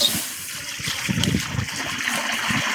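Water trickles and splashes steadily into a cooking pot nearby, a continuous liquid pour with light splattering, while preparing country chicken biryani.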